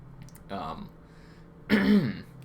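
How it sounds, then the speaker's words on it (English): Two short bursts of throat clearing separated by a brief pause, close and fairly loud, the second harsher than the first. "Let me clear my throat."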